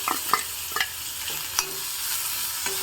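Cucumber pieces fry in a pan under a gentle sizzle, with several sharp spatula scrapes and taps as they are stirred.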